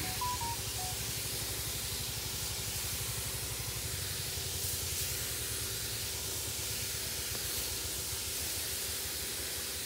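A sprayer hisses steadily as beans in a garden are treated against fruit borer, a continuous close spray noise lasting the whole stretch with faint tones beneath.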